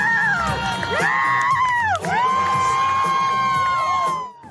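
Friends and family roar and whoop as a young fighter wins the WBC amateur cruiserweight boxing title, a loud, sustained crowd cheer with rising shouts that holds for several seconds before cutting off.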